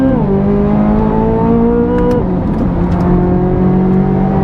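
A Corvette C8 Z06 with a hand-built V8 pulls hard in second gear, its loud engine note climbing steadily in pitch, dropping briefly at a shift point, then rising again, heard from inside the car.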